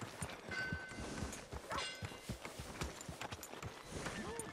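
Horse hooves clip-clop in the video game Red Dead Redemption 2, soft and fairly distant, an uneven string of light thuds over a quiet outdoor backdrop.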